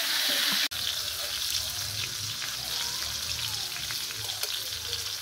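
On a wood-fired stove, cauliflower frying gives off a steady, close hiss of bubbling oil, interrupted by one sharp click early on and accompanied by occasional stirring.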